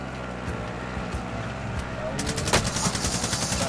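Gunfire from Call of Duty: Modern Warfare, a fairly quiet, muffled rattle of shots that grows denser and sharper partway through, with a brief louder crack near the middle of the burst and speech present.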